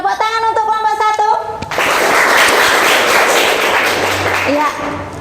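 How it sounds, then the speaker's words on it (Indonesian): A classroom group bursts into loud, dense applause after a few seconds of children's voices. The clapping holds steady for about three seconds and then tapers. "Tepuk tangan untuk kelompok 1."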